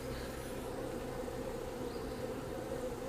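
Dense, steady buzzing of many bees, a continuous droning hum with no pauses and no voices.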